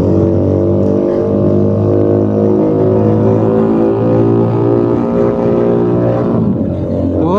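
A Keeway SCR 250V motorcycle with a Rez Speed exhaust, loud and close, holding a deep, steady exhaust drone that rises and falls as the throttle changes, then fades slightly near the end.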